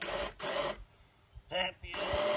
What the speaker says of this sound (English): If you're happy and you know it, drill a hole.